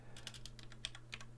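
Quiet, close computer keyboard typing: a quick run of separate light key clicks in an irregular rhythm, with a low steady hum behind them.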